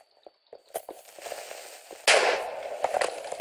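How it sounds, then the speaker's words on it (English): A creeper explodes in the Minecraft video game: a sudden loud blast bursts in partway through and rumbles on, after scattered soft clicks and footstep-like taps. "That exploded."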